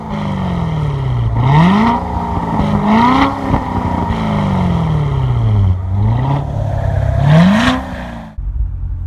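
A C7 Corvette engine in track mode, not fully warmed up, revved repeatedly while parked: several rising throttle blips climb and fall back to a deep, rumbling idle, loud and close, ending with a sharp cutoff.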